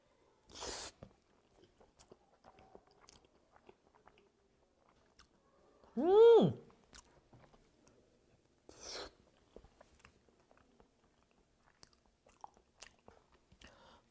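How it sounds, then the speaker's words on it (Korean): A few soft bites and chews of homemade curry spaced across a quiet stretch, with a brief hummed vocal sound of approval in the middle. "제가 만든 카레를 한번 먹어보도록 하겠습니다"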